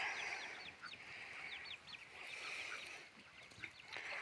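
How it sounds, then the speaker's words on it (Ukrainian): Ducks quack repeatedly in a steady chorus of overlapping calls at moderate distance, faint against a soft outdoor background. "Там качечки у нас."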